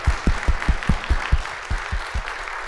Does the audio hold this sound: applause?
yes